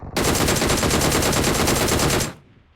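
A single long burst of automatic gunfire in the PUBG Mobile video game, a loud, rapid, evenly spaced rattle of shots lasting about two seconds, then cutting off abruptly into a short fading tail.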